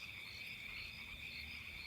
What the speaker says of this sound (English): The air was thick with the sound of frogs and night breezes and insects buzzing.